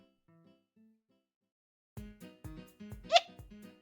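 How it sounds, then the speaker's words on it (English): A single sharp hiccup bursts out near the end, loud against a streamer's soft voice while she talks over a quiet drawing session. "Another hiccup."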